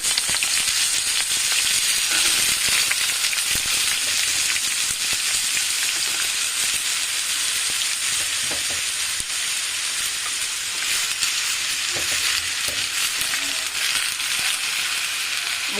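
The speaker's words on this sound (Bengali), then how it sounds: "তো তেল পেঁয়াজটা লাল করে ভেজে নিয়েছি, এবার আলুগুলো এবং করলাগুলো দিয়ে দেব।" Potatoes and bitter gourd hit hot oil with reddened fried onions, giving a loud, continuous sizzle with occasional stirring scrapes and no voices.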